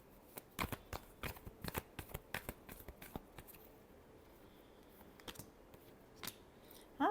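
Tarot cards being shuffled by hand in a quiet room: a run of crisp riffling bursts in quick succession, then a pause and a few final flicks and one louder snap at the end, close and alone.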